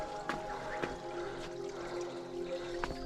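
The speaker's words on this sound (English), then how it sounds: "Still hear water, that's good. There it is, just trickling through." A low-flow creek trickles over rocks in a New South Wales national park, a steady soft wash of running water with a few brief splashy bursts, fairly close and alone.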